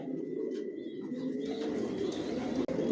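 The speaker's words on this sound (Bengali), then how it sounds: "এখানে যে কবুতরগুলো দেখতেছেন এগুলো আমার মাস্টার পেয়ার, রানিং পেয়ার" Many racing pigeons coo in a loft in a low, rolling murmur that never stops, close by, with some light chirps and one sharp click near the end.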